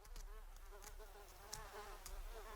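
A syrphid fly, a bee-mimicking hoverfly, buzzes in a steady, fairly quiet drone with a few brief louder pulses, heard alone without talk.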